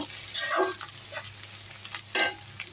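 Eggplant pieces and spices, with salt and chili already in, sizzle and fry in a pan while being stirred, giving a steady close hiss broken by a few sharper scraping bursts.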